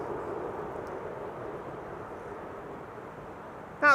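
An Embraer 190 jet deploys thrust reversers while landing at Amsterdam Schiphol, a steady distant broadband roar holding for several seconds with no voices.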